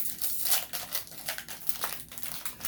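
Crinkly foil wrapper of an Evolving Skies trading card pack is pulled and torn open by hand, close and fairly quiet, with bursts of crumpling and tearing, no speech.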